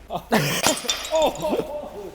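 A sharp glassy pop and brief tinkling as a light bulb breaks, surrounded by excited voices talking and shouting nearby.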